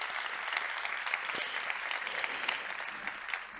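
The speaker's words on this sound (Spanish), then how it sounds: "por favor, un aplauso también para ellas" Applause at a 25th-anniversary event for social project grants, a steady wash of many hands clapping from an audience, heard at moderate distance and fairly quiet, continuing evenly throughout.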